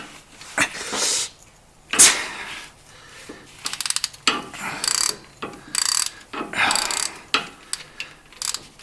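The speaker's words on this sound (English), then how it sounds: "we can now go ahead and remove the actual bolt right here that faces onto the oil cooler. That's with a 22mm socket." Ratchet with a 22mm socket turning out a tight oil cooler bolt on a Nissan Frontier, Xterra or Pathfinder, a close series of rapid clicking pawl bursts in short irregular strokes.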